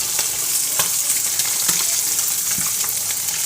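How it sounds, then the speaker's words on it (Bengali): Fish frying in hot oil in a pan for a vegetable and ginger curry, a constant bright sizzle close up with occasional small pops and stirring scrapes, no voices. "আর এটা মাছটা ভালো করে ভেজে নিচ্ছি।"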